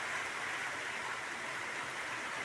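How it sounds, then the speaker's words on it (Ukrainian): Steady rain falls on a hot, sunny day, a continuous close hiss of drops with no breaks and no voices. "Дощ, ну справжнісінький дощ у спекотний день і в сонячну погоду."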